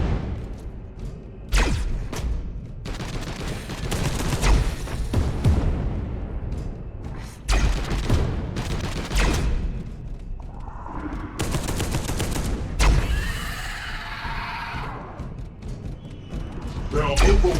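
Assault cannon fire from Space Hulk Deathwing, a Warhammer 40,000 game: long roaring bursts of rapid automatic shots repeat throughout, loud and close, with heavy booms mixed in and someone talking over the gunfire.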